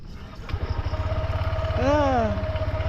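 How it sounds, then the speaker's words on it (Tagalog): A motorcycle engine starts up and settles into a low, rapid, even idle thump that stays close and steady, while a person speaks over it. "Pandarin ko muna yung motor"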